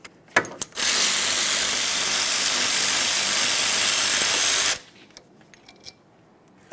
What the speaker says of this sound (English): Now we can fully remove the lower bolt as well.